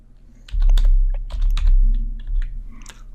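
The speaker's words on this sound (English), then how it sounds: "First thing we need to do is type in the word public" Keys clatter on a computer keyboard as code is entered in a text editor, a close, fairly loud run of irregular clicks over a low background hum, with no voices.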